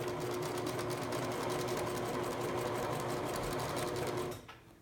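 A sewing machine stitches fabric for a photo pillow, a steady fast mechanical whir of the needle running continuously and close for over four seconds before it slows and stops.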